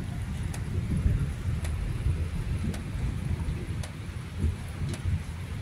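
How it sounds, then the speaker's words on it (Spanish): Thunder from a night storm in December, heard outdoors while camping, rolls as a steady low rumble. Wind and rain noise sit under it, with faint sharp crackles at intervals. "Pero han caído unos relámpagos y unos truenos."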